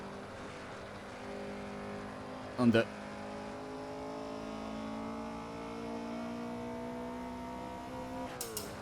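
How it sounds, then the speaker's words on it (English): An AC WSC Legends race car at Riverside holds a steady engine note at certain revs that sounds rough and broken, with droning harmonics throughout, a sharp loud knock early on and a brief spoken word. "The engine sounds like it's broken"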